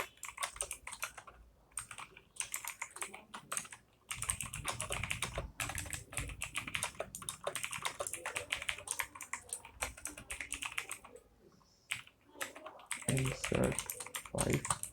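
Continuous clatter of fingers typing code on a computer keyboard, quick irregular keystrokes close up, pausing briefly now and then, with someone talking over it.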